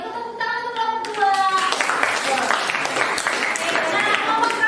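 Classroom applause for a student group, lively clapping from many hands that starts after a voice and carries on with talk mixed in.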